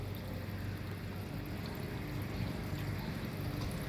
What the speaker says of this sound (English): Gutter flow. That's what we need.